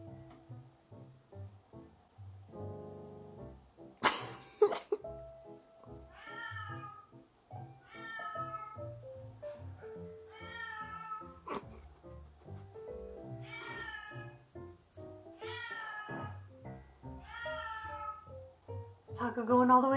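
A cat meows again and again at moderate loudness near a new cat tree, the calls spread across the stretch with people talking between them.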